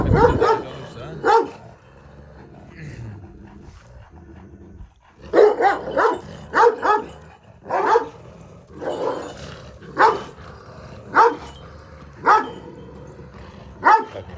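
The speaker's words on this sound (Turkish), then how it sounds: "Böyle şey yaparak, hırlaşarak birbirlerini tartıyorlar." Two old Kangal dogs sizing each other up over a female, trading close, loud bouts of growling and snarling with sharp barks in irregular bursts and brief quiet gaps, no talk over them.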